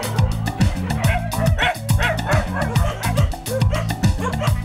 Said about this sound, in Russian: называют их по имени острова собаки породы Фукуок